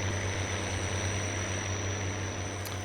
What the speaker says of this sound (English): it is quite loud, that tractor